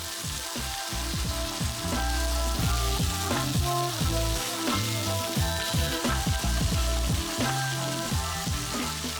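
Tofu sticks sprinkled with onion salt sear in a hot pan, giving a steady close sizzle with dense crackling pops throughout and no talking.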